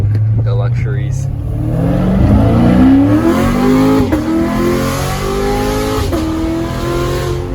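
A Chevrolet Corvette with a very loud modified exhaust revs and accelerates, its engine note climbing in pitch through several pulls with a gruff, booming rasp close by.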